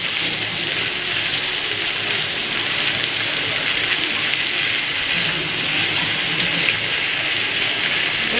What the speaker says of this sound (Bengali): সেই পোস্ত বাটাটাতে জল দিয়ে দিলাম